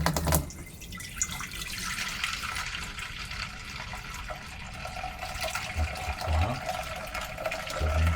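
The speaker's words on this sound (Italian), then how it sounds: "mettere un po' d'acqua" Water runs from a tap for several seconds, a steady splashing hiss into a basin near the listener, with a few small clunks and drips along the way.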